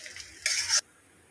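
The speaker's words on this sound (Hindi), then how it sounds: "अब इसको अच्छी तरह से हम लोग भूनेंगे।" Chow mein noodles being stir-fried in a pan, a brief faint scrape followed by a short burst of loud sizzling that stops abruptly, no talk.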